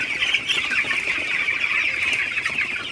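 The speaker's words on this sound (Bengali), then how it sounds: "তো মুরগিগুলোকে একটু তাড়াই দিতেছি যাতে একটু খাবার খাই" A flock of 19-day-old broiler chickens is shooed toward their feed and clucks steadily and busily at close range throughout, with no talking.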